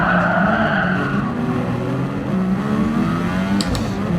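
A race car engine drones steadily on track, its pitch falling and sliding as the car brakes into a corner, loud and continuous throughout with a brief sharp click near the end.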